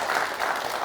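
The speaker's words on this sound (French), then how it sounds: "je vous demande de l'applaudir" Short burst of sustained clapping from an audience at a televised entrepreneurship pitch event, a dense, even wash of hands that does not let up.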